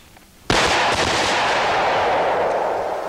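A .460 Rowland 1911 pistol fires, and one sharp, loud blast booms in and rolls on as a long sustained roar and echo, close up with no talk.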